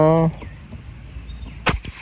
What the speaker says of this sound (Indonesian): Kita coba tembakan yang pertama.